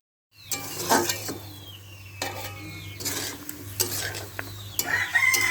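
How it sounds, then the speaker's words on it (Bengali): Koi fish simmering with spices in a pot over an outdoor village fire, heard as a soft steady bubbling and occasional stirring and clinks of the pot, with faint rooster or hen sounds in the background. "এখানে যে কই মাছ সিদ্ধ করে নিচ্ছি মশলা টশলা দিয়ে কই মাছ সিদ্ধ করে নিচ্ছি"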